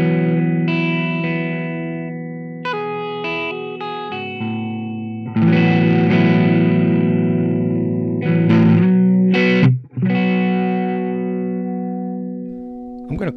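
Electric guitar run through a gain pedal set at the edge of breakup, playing sustained chords and single notes with a lightly gritty, harmonically rich tone, loud and close with no talking.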